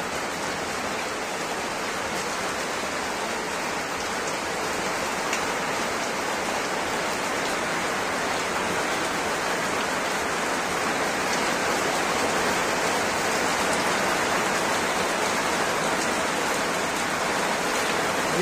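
Evening rain in Barasat, North 24 Parganas, during a nor'wester storm pours down in a dense, even hiss that stays loud and unbroken throughout, with no voices.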